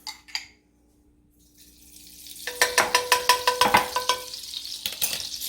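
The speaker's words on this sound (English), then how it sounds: "All right, let's cook this salmon. So here we are, going into the pan." Salmon laid into a very hot pan, silence giving way to a loud rising sizzle with rapid rhythmic crackling pulses, close and unaccompanied by speech.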